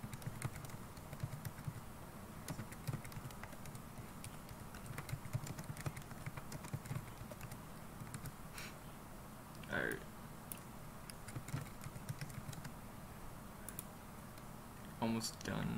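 Rapid clicking keystrokes on a computer keyboard run continuously and close up, with a few louder taps and clicks scattered through, next to a gaming setup.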